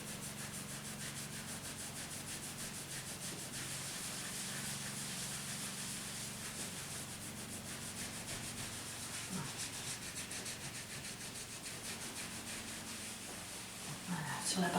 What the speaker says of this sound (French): on frotte de part et d'autre de la rotule, le long des méridiens